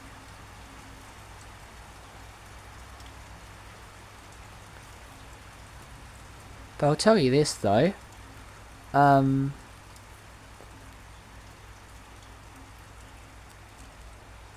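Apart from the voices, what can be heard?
rain falling during a thunderstorm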